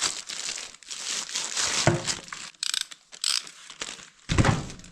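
A torque spanner being handled near a tractor repair job, crinkling plastic packaging and short ratcheting clicks in irregular bursts, close and fairly loud.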